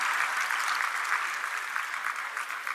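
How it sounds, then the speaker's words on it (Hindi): An audience gives a welcoming round of applause for a speaker at a formal event: steady, dense clapping that holds evenly throughout with no voices. "तालियों से स्वागत करें श्री मयंक सिंह जी का"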